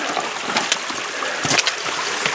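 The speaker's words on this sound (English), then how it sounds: "A little trickle up there." A small spring trickles out against a mountainside, its water running low, with a steady, close splashing patter and hiss of thin running water.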